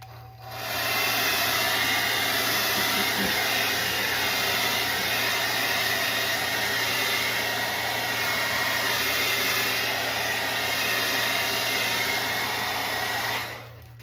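A heat gun blows continuously while heating a bicycle heart hanger to tack it, a loud, steady hissing roar that starts after a second, holds for about twelve seconds, then cuts off.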